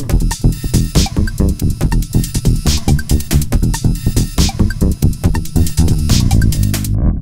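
A bass guitar played through a ring modulator pedal gives a rhythmic run of plucked, metallic, clangorous and out-of-tune notes, loud and close, ending abruptly.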